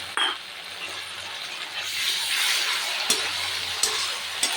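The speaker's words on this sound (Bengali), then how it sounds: "এটা একটু ভাজা ভাজা হোক" Chili paste fries in a pan with a steady close sizzle that swells midway, broken by a few sharp clinks and scrapes of stirring, and no talk.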